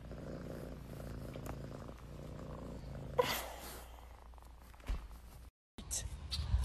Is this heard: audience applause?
no